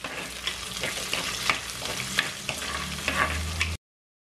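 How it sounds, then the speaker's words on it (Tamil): Onion, chillies, curry leaves and garlic sizzle and fry in a pan for a Sri Lankan long bean curry, with a spoon stirring through them in several scraping strokes over steady close frying noise. "இதை மிக்ஸ் பண்ணி போட்டு 3 நிமிஷம் வதங்க விடுவோம்"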